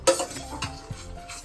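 A utensil stirs vegetables and milk in a pan for white sauce pasta, with a few distinct scraping clinks against the pan over faint sizzling, close and fairly loud, with no talking.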